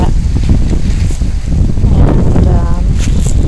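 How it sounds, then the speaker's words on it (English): Gusty outdoor wind buffeting the microphone in a garden, a steady loud rumble that swells and eases throughout, with a voice talking faintly in places. "it's quite windy today"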